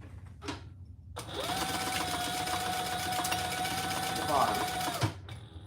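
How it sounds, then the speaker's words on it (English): A sewing machine basts steadily around a slip pocket on a Monarch Mini bag, a continuous close whirring run of about four seconds that starts and stops abruptly, with a voice speaking briefly over it. "Now I'm just gonna baste around that, and then we'll add piece B."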